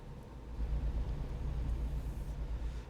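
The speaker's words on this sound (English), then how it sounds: "I'm in this Freightliner safely delivering cargo" A Freightliner truck drives in American Truck Simulator, its engine a low, steady rumble with a faint road hiss, quiet and continuous for a few seconds.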